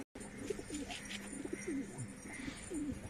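Pigeons kept for sale coo close by in repeated soft, rolling calls, several overlapping phrases in quick succession against a faint background hum, with no talking.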